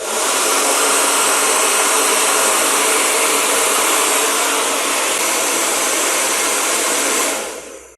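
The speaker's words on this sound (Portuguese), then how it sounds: "Eu vou ligar aqui o fio do secador na extensão. E vocês vão ver que ele vai ligar e vai aquecer" A hair dryer plugged into an extension cord blows hot air onto a KTO 011 electrical panel thermostat, a loud, steady whooshing motor roar held constant for about seven seconds before cutting off abruptly.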